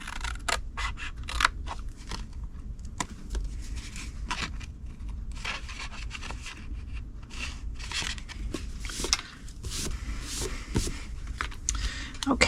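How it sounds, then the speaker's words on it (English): Scissors snip through cardstock along score lines in a rapid series of crisp, close cuts, with a person talking over the cutting. "go to the next score line, cut it to the 2nd score line"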